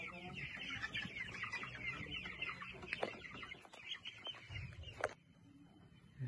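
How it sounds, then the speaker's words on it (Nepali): Chickens at a chicken farm cluck and chatter in an overlapping flock. The calls are fairly faint and irregular, with a sharper squawk near the end. "भएको कुखुरा पनि रहेछ यता"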